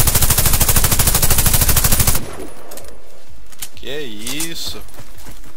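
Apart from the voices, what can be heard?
Tavor CTAR 21 rifle firing, from video game Warface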